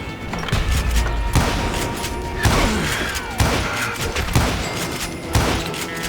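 Gunfire rings out in Call of Juarez Gunslinger on hard difficulty: about six loud, sharp shots come at irregular intervals, each followed by a short ringing decay.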